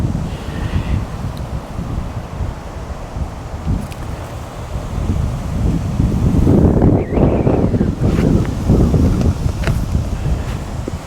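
Strong wind at a fishing lake roars and buffets the microphone in a continuous dense rumble, gusting louder midway through, with no voices.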